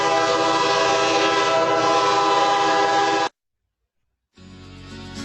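A train rushing past close and loud, a dense roar of wheels and rail noise for about three seconds, a sudden gap of silence, then the rumble resumes.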